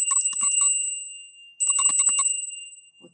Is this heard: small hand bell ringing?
yes